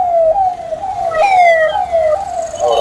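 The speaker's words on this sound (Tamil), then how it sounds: "ஆம்புலன்ஸ் போகுது." An ambulance siren wails as it passes along a busy town street in Cuddalore. The loud, rising and falling tone sweeps up and down several times over the traffic noise, with no speech.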